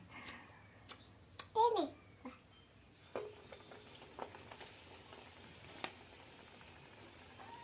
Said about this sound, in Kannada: ಇದಕ್ಕೆ ಇವಾಗ ಎಣ್ಣೆಗೆ ಬಿಡಣ್ರಿ